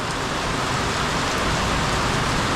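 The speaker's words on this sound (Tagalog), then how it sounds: "Lakas ng ulan" Heavy rain pours down steadily, a dense, loud, continuous hiss of drops drumming on surfaces with no pauses.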